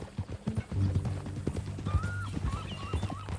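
Horse hooves clip-clop in Red Dead Redemption 2, a steady clatter of footfalls under a low rumbling score, with a short whinny-like tone rising partway through.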